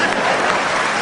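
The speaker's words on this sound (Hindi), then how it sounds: "इधर से तालियां कम बज रही हैं" A crowd at a Hindi comedy poetry gathering claps loudly in a short, dense burst of applause, close and continuous for its whole length.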